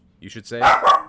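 A small Maltese dog gives a couple of quick, sharp yips, with a person's voice talking over the barking right after.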